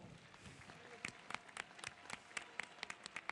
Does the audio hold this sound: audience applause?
yes